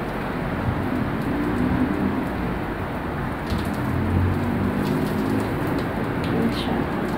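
Heavy typhoon rain falling overnight outside a home, a steady dense hiss of downpour with a low rumbling undertone throughout, no speech.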